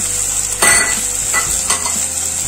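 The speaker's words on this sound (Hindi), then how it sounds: "सबको झिलमिल होने तक फ्राई करेंगे" Steady sizzling of onions, green chillies and grated ginger frying in a pan, with a few louder bursts as things are stirred or added, close and continuous.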